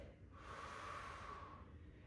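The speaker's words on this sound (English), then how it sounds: "Breathing out." One soft, slow exhalation through the nose or mouth during an exercise class, a faint airy breath swelling and fading over about two seconds, close and quiet.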